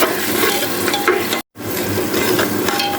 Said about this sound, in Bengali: হলুদের গুঁড়া, 1 চা চামচ জিরের গুঁড়া, স্বাদ মতো লবণ দিয়ে আমি একসঙ্গে করে ভালো করে কষাই নেব